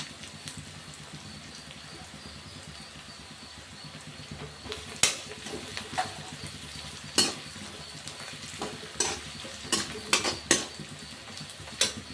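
Vadam sautéing in oil in a pan for vendakai sambar, a soft steady sizzle under sharp metallic spoon clinks and scrapes that grow more frequent toward the end, close and fairly quiet.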